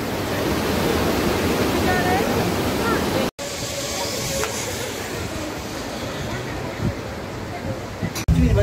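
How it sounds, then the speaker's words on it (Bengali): Bhatta Falls in Mussoorie roars as a steady, loud broadband rush of falling water, continuous and close, with a brief break and a louder knock near the end. "এখান থেকে ফলসটা আসল পড়ছে, অসাধারণ সুন্দর লাগছে"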